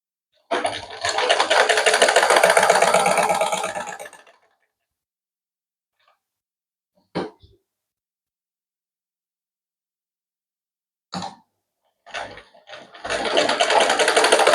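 Sewing machine stitching a shirt, a loud close mechanical whir running in bursts of a few seconds separated by silence and brief clicks as the fabric is repositioned.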